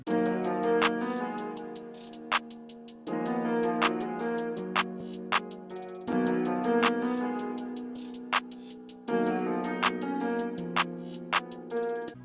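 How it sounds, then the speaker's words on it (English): Programmed two-step hi-hat pattern with rolls in FL Studio for a Memphis-style beat, crisp ticking hats with quick stuttered rolls riding over a looping melodic bed, even and prominent throughout, no speech. "moving on to the second hi-hat pattern, we got something that sounds more like a two-step and with some more rolls"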